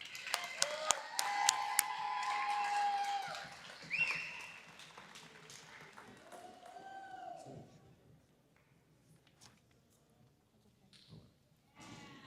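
Audience clapping at a junior high school awards ceremony, a short, fairly faint round of applause that tapers off, followed by quieter sounds and some talk in the room.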